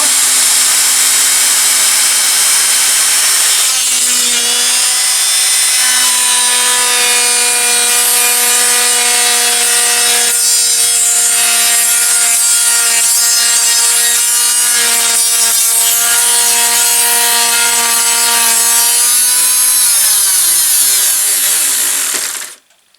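A plunge saw cuts through wood for a child's art easel, a loud, sustained whining drone with a steady pitch lasting over twenty seconds before the blade spins down abruptly.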